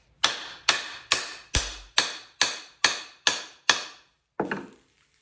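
A mallet seating an axe head onto its wooden handle: eight sharp, evenly spaced smacks ring out close and loud, followed after a short pause by a final softer knock.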